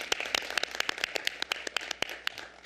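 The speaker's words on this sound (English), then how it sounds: "Let's give them a round of applause." An audience at a Black History Month proclamation ceremony claps in a round of applause: dense, quick hand claps with no talking, fairly faint and steady throughout.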